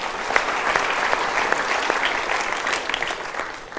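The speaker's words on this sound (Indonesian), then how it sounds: "berikan tepuk tangan dulu" Sustained applause from a seminar audience at a motivational talk, a thick, even wash of many hands clapping that keeps going without pause.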